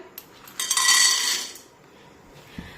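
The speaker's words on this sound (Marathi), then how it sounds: "आता तेल हलकसं गरम झालं की त्यामध्ये हे 1 वाटी सांडगे टाकूया।" Dried lentil dumplings (sandge) tipped into lightly heated oil in a kadhai, a single burst of clattering and rattling that tails off into a faint sizzle.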